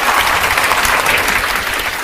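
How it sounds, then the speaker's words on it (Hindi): A room full of people claps steadily and loudly for a candidate's success, a dense unbroken burst of applause. "तो जो है एक बार इनकी सफलता के लिए जोर से ताली होना चाहिए"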